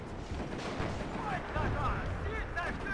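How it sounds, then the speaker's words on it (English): Artillery fire in the real-time strategy game WARNO: muffled booming shell impacts and distant explosions roll through the battle soundscape with faint whistling, moderately quiet beneath a voice talking over it. "There's the artillery."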